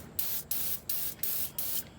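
Five short hissing bursts of aerosol spray onto the engine of a 1968 Ford Mustang, each about a quarter second long, evenly spaced and close up, with no voices.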